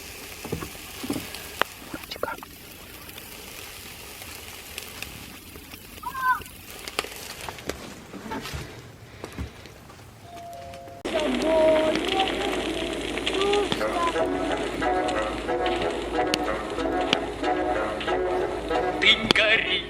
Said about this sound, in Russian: Ты гори, костер гори.